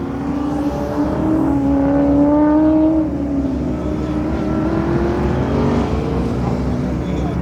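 An autocross race car lapping a course, its engine droning and rising in pitch at moderate distance, steady and continuous, with some talk over it.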